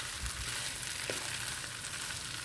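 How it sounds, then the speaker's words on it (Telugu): Potato slices fry in hot oil in a pan, a steady, dense sizzle that runs unbroken at close range with faint stirring beneath. "చూసారా వేగిపోతుంది."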